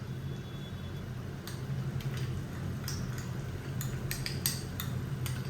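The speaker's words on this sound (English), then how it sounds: "Give it a nice mix." Guntur chili paste is stirred into Schezwan sauce in a pan, with a spoon scraping and clinking against the metal over a steady low sizzle and bubbling, close and continuous.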